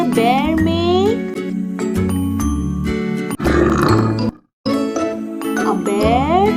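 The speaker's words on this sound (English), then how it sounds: "A bear growls." A bear growls in rough, loud roaring bursts set against a jingly children's music track, with a brief silent gap midway.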